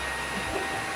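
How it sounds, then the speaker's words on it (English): A hood hair dryer runs with a steady, close whooshing hum of blown air, constant in level and without any talk. "He's underneath the dryer."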